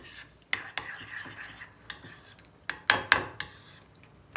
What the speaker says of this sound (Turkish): Ardından bir çimdik şöyle tuz atıyorum içine. Ve karıştırıyorum.